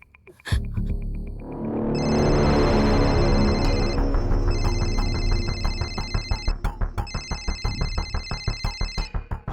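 A telephone rings inside a house, with repeated electronic tones and pulses that grow into a steady, fairly loud ringtone, then break into rhythmic beeping bursts; no one speaks over it.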